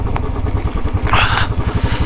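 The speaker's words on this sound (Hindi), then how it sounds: "बाइक चला रहा है।" A loaded touring motorcycle is ridden along a mountain road in Ladakh, its engine chugging in a close, steady rapid pulse with a brief whoosh of passing wind or traffic midway.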